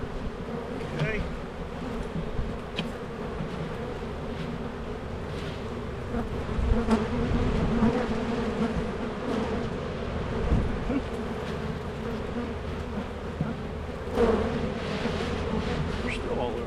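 A swarm of bees buzzes around a swarm trap outdoors, a dense, continuous drone close to the microphone, with individual insects zipping past and faint wind noise.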